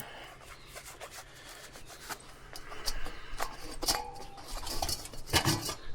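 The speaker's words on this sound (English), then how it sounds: "We're going to put a little charcoal here in the pan." Charcoal pieces dropped and shuffled into a grill pan, a close series of irregular clinks, knocks and scraping rattles that grows busier toward the end.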